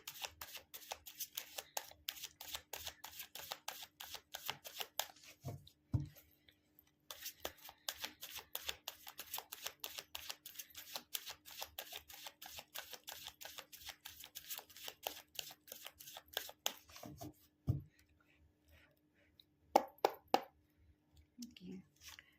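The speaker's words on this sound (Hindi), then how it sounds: "पहले मैं 4 कार्ड्स निकालूंगी" Tarot cards shuffled and handled continuously for about seventeen seconds, a dense rapid patter of close, light card clicks and riffles, then a pause and a few sharper flicks and snaps as cards are drawn; no talking.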